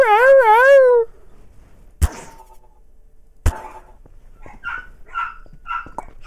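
In Garry's Mod, a dog whimpers in a rising, wavering whine and then gives a few sharp, separate barks with quieter yips, close and clear against near silence.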